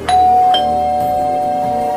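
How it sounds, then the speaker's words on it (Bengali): An indoor doorbell chimes once, loud and close, with a bright ringing tone that rings on and slowly fades across two seconds. "তখনই কলিং বেল বেজে উঠেছে।"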